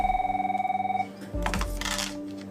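A telephone rings at an air ambulance desk with a pulsing electronic tone, then stops as the handset is picked up amid some close clattering handling noise.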